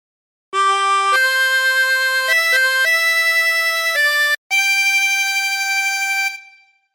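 A reedy 24-hole tremolo harmonica plays Amazing Grace slowly and simply with a wavering tremolo, holding sustained chords that step between notes. A short pause comes before a final long note fades out.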